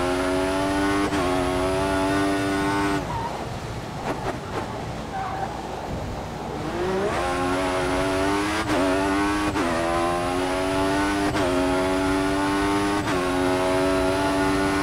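A Formula 1 car engine in F1 2014 at Bahrain International Circuit screams loudly as it accelerates through sharp upshifts, easing off briefly midway before winding back up to a high, sustained whine.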